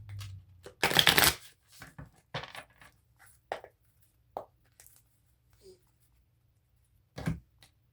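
A deck of cards being shuffled up close, with a loud riffle burst at first, then scattered shorter shuffles and taps among quiet gaps, with no talking.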